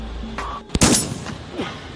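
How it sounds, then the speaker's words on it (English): A single loud gunshot crack bursts out during an active shooter response training scenario, cutting through a tense room tone. A faint voice can be heard before and after the shot. "There's a guy with a gun. He's shooting."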